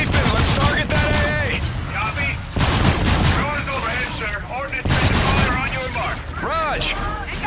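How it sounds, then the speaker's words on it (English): AA guns firing in Call of Duty: Infinite Warfare, loud rapid bursts of gunfire and booms packed together, with radio voices and shouting layered over the barrage. "AA guns are cutting us off"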